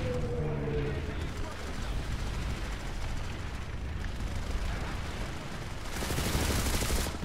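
Automatic weapon fire in the online shooter PlanetSide 2, a dense continuous rattle of rapid shots blending with battle noise, loud and sustained throughout with a voice talking faintly underneath.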